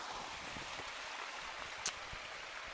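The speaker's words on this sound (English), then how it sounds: "we've got a little creek crossing here. Quite a bit of water running" Steady rushing water from a small creek at a trail crossing fills the background as a continuous wash, with one brief sharp splash or knock partway through and no talking.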